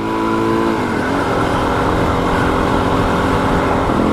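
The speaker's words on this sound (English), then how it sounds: "Today we are riding the cult classic DRZ400SM." A 2024 Suzuki DRZ400SM supermoto's single-cylinder engine rumbles close and steady, with a slight rev change near the start and a dense, continuous throaty drone throughout.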